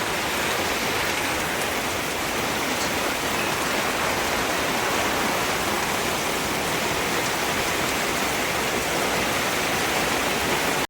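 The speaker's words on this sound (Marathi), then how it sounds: "एवढा पाऊस येतो की काय दिसत पण नाही आजूबाजूला" Heavy rain pours steadily and densely over a rice-farming area, a loud, unbroken wash of drops hitting surfaces with no gaps and no voices.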